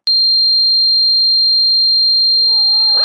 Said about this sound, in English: Now here's just a pure sine wave.